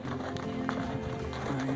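A horse on a mountain hiking trail along the John Muir Trail steps along with light hoof clip-clops over a steady low background hum, no clear talk.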